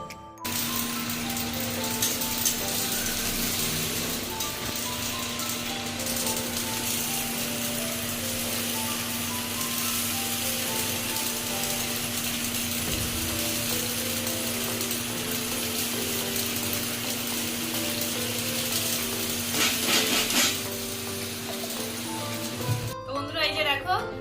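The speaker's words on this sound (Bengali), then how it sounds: "এখানে এই যে চাউমিন সেদ্ধ করতে বসিয়েছি" A pot of water with chow mein noodles bubbles at a rolling boil, a continuous watery rumble and hiss that runs close and steady, with a faint bit of talk underneath.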